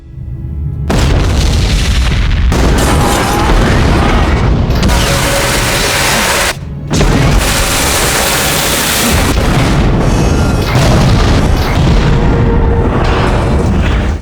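Depth charges go off against a submarine, heavy booming blasts that rumble on in long, loud waves with brief pauses between them and no talk.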